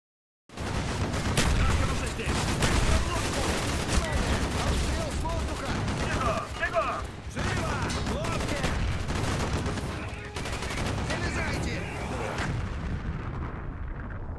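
A tank fires amid gunfire in the Call of Duty: Black Ops video game: a dense, loud, continuous barrage of shots and heavy booms that barely lets up for the whole stretch.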